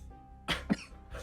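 A person imitates a cold-like cough with two short, close, forceful bursts, then a softer third huff. The sounds are near and stand alone without other talk.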